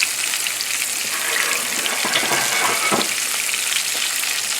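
Diced mirepoix vegetables sauté in a pan, giving a steady close sizzle and crackle with a few brief stirring scrapes and no talking.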